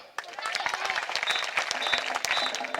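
Clapping from a group of residential school students, dense and steady throughout, with a crowd murmur underneath.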